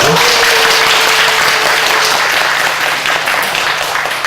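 A lecture audience gives loud, continuous applause to welcome a speaker, a dense and even roar of clapping close by with a faint steady hum beneath it.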